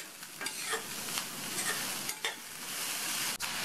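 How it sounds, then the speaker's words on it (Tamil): Shredded cabbage stirred with salt in a pan, soft sizzling under several quick scraping stirs of a spoon against the pan, close and fairly quiet. "உப்பு சேர்த்து நல்லா மிக்ஸ் பண்ணி விட்டுட்டு"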